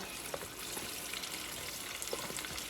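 Chicken wings fry in hot grease for honey lemon pepper wings, giving a steady, faint sizzle with small crackles and pops and no voices.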